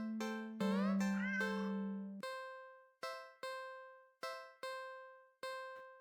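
A cat meows close by, a few drawn-out, pitch-bending cries at first, then a string of shorter, clear tonal calls spaced about a second apart that fade quickly, with no talking.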